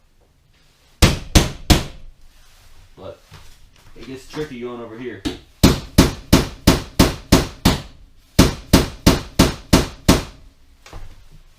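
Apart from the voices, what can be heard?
hammering out rivets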